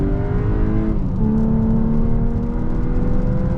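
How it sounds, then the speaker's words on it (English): A 2024 VW Atlas Cross Sport SEL Premium R-Line accelerates hard from idle toward 60 mph, heard from inside the cabin as a loud, rising engine drone that climbs, drops at a gear shift, then climbs steadily again. "See how quick this Atlas is, 0 to 60."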